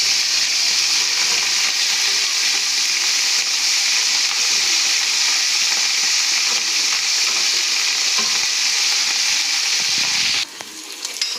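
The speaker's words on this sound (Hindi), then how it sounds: "मैं प्याज ब्राउन कर रहा हूँ और अब इसमें ऐड करूँगा अदरक लहसुन का पेस्ट 1 टीस्पून।" Onions and ginger garlic paste fry in a pan with a loud, continuous hiss and sizzle that holds steady, then drops sharply near the end.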